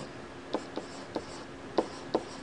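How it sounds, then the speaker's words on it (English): Chalk or marker strokes on a board during an engineering lecture on random variables, five short sharp taps and scrapes spaced unevenly over a quiet room hum. "Let me write it down here."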